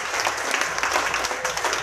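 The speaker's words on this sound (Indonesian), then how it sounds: "aplaus dulu, aplaus dulu." An audience at a pesantren event claps steadily, a dense and continuous applause that fills the room throughout.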